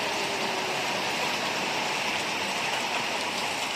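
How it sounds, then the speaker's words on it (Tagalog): Heavy rain pours in a constant, dense hiss, loud and unbroken, like a downpour drumming on surfaces nearby. "Lakas ng ulan, oh."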